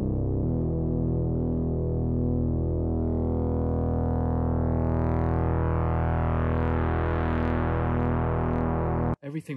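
A steady, buzzing analog oscillator tone from an Arthur Joly Mutuca Pro synthesizer, rich in harmonics, drones continuously, its timbre shifting slightly, then cuts off abruptly near the end.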